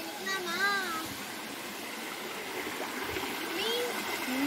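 A mountain stream flowing steadily in the background, a soft continuous wash of water, while a person talks over it now and then.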